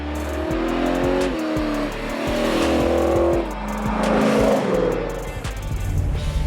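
A 1992 third-gen Chevrolet Camaro on 295 Continental Extreme Contact Sport tires runs an autocross course, its engine revving hard and falling between shifts, loud and close with tire noise underneath.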